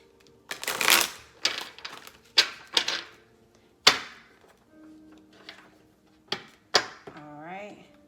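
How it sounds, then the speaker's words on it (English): Several quick bursts of riffling and snapping angel answer cards, close and crisp, separated by short pauses, with a brief voice murmuring near the end. "So I'm going to pull some angel answer cards here. Let me do a quick shuffle."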